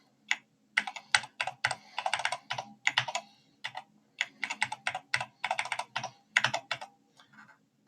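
Fingers tap out a username and password on a computer keyboard during a Linux setup, with quick bursts of crisp keystrokes in uneven clusters and short pauses between them, close and fairly quiet with no voices.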